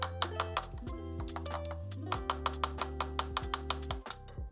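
A wrench ratchets in close, steady clicking runs while torquing the oil filter during a service on a Triumph Street Triple 765R motorcycle. A brief pause splits the clicks into two bursts.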